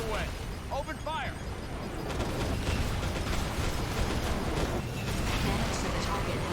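Gunfire and explosions in the mech action game Daemon X Machina, dense continuous bursts and booms filling the mix, with a clipped voice at the start.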